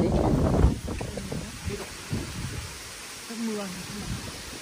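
Strong wind gusts across an exposed mountainside, a steady broad rush that sits under a man's speech throughout and is loudest near the start.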